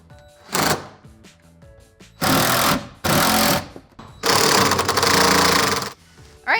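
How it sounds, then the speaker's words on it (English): A power drill drives temporary screws into an alcove shower side wall in several loud bursts, a short whir followed by longer buzzing runs with quiet gaps between them, close by. "now I'm gonna put in 3 temporary screws to hold my side wall in place"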